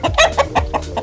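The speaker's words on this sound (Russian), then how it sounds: "Мам, куры убежали." Several chickens cluck loudly and close by in a garden plot, a quick run of five or six clucks in a row with no talking.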